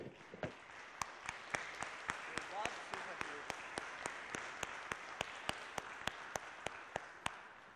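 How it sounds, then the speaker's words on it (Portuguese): A church congregation clapping in a steady, evenly spaced rhythm, sharp distinct claps over a soft background wash, fairly faint and distant. "Você pode aplaudir ao Senhor por causa disso?"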